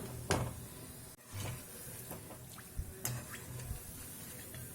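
Evening snacks frying in hot oil, a low crackling sizzle with scattered sharp pops and spatters, close and fairly quiet, with brief handling noises.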